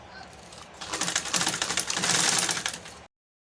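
A sewing machine stitches the front facing of a shirt with round edges, a fast close rattling whir that starts, speeds up for about two seconds and then stops abruptly.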